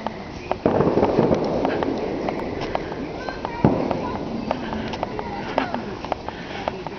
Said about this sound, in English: these are some of the Lime Rock fireworks